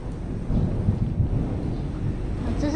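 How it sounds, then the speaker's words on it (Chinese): Thunder over the Meguro River in Nakameguro, Tokyo, on an overcast day: a low, continuous rumble with a windy, hollow character rolls steadily throughout, fairly distant and with no talking. "打雷的声音。"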